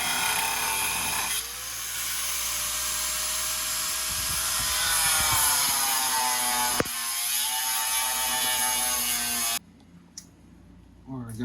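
A ratchet runs steadily while bolting up a strut tower top mount on an S550 Mustang drift build fitted with an angle kit and coilovers, a close mechanical whir lasting most of the stretch before stopping abruptly, with brief clicks after.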